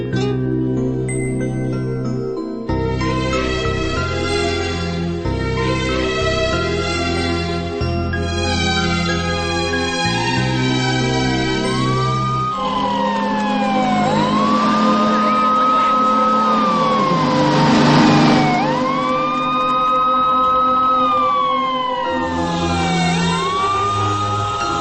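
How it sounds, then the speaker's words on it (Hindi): An ambulance siren wails loudly along a road, its rising and falling tones sweeping repeatedly as the vehicle passes close by, with engine rumble underneath and no voices. "जो एम्बुलेंस अभी अभी निकली है"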